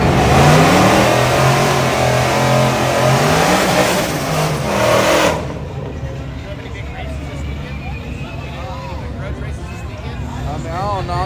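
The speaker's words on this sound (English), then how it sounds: "Hey, truck leaving." A nearby truck engine roars loudly as it revs at a race track, then the sound drops away as the truck pulls off, leaving fainter engine noise and voices.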